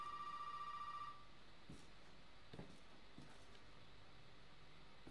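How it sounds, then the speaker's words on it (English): A telephone rings in the horror game Resident Evil 7 with a steady electronic trill, loud at the start and stopping after about a second, followed by quiet ambient rumble and a few soft thuds. "That's not my phone, is it?"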